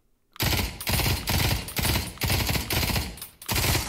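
Full-auto rifle fire in the VR shooter Pavlov, loud close bursts of rapid shots in a steady rhythm with two brief breaks between strings, no talk.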